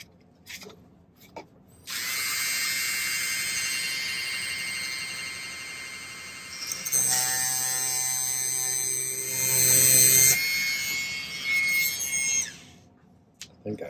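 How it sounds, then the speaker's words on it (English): A small power drill with a tiny bit whines steadily, rising in pitch and grinding harder partway through as it bites into silver, then cuts off. "One of my true talents is breaking these little bits when I drill."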